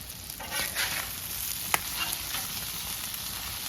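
Chopped beef sizzles loudly and steadily on a hot griddle for a chopped cheese sandwich, with one sharp metallic scrape of the chopping tool partway through.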